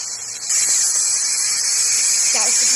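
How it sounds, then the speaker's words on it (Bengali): Bitter gourd slices and fish frying together in a hot pan, a steady loud sizzling hiss that jumps up after a brief quieter start and keeps going throughout. "চালকুটিগুলো ভাজা হয়ে গেছে, এবার করলাকে ভাজা দিচ্ছি"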